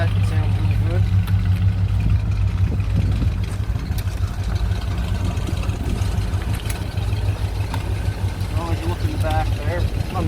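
A car with true dual exhaust idles and rumbles steadily with a deep, throaty low tone throughout, loud and close, with small shifts in engine pitch.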